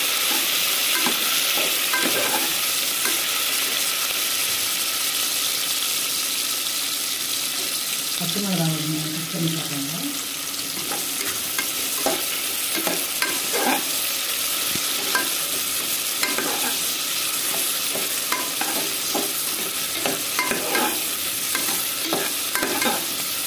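Three small chopped onions fry and get stirred in a pan with a steady loud sizzle, punctuated by scraping spatula strokes and a brief clink, continuing throughout.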